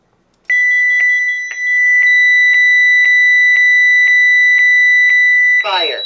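A 1992 CareTaker Plus home automation system sounds its fire alarm: a loud, steady electronic tone pulsing in regular beeps about twice a second, close by, ending in a short burst of synthesized voice.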